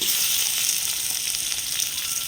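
Shrimp frying in a hot pan with garlic and onion, a loud, steady bright sizzle and crackle of oil running unbroken and close up.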